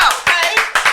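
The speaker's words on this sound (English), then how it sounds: "Come on, clap." A handful of sharp, close hand claps ring out in a quick, uneven rhythm from a studio audience on a media talk show. About four distinct claps come within under a second.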